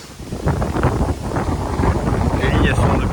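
Strong wind buffets the microphone outdoors at a carp-fishing spot on a lake, a loud, steady, rumbling roar with gusting swells lasting about three seconds.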